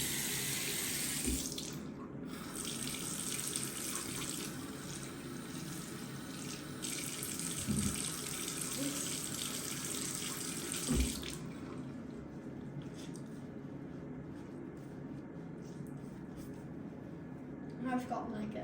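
A tap runs water onto a towel, a steady close hiss of flowing water that cuts off partway, followed by quieter drips and handling sounds.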